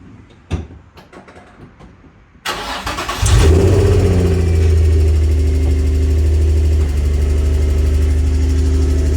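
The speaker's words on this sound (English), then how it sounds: "I'm gonna have Bob start the Z up because I need you guys to listen to this tick it's got" Nissan Z car engine cranks and fires up, then settles into a loud, steady idle close by. A faint ticking may sit under the idle. A few clicks and knocks come before the start.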